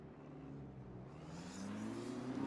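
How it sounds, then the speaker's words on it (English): A BMW GT3 race car in a racing game pulls away and accelerates, its engine drone rising steadily in pitch and growing louder over a couple of seconds, with no voices over it. "Lino heading out in the BMW."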